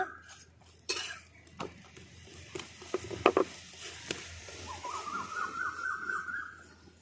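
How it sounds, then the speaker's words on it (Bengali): A paratha fries in refined oil on a wood stove, with a soft steady sizzle under scattered clinks and scrapes of a utensil on the pan. A whistling tone rises in the background, and no one speaks. "উপর থেকে তেল দিয়ে দেবো রিফাইন তেল এভাবে ভেজে নেব"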